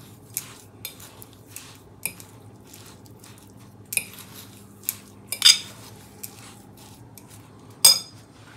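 Semolina and salt are mixed in a bowl with a spoon, giving sparse metallic clinks and soft scrapes against the bowl in an otherwise quiet room.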